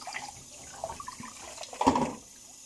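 Water runs in a sink during dish washing by someone in pink rubber gloves. Splashes and clatter are soft at first, then a louder gush of running water rises for a moment before easing off.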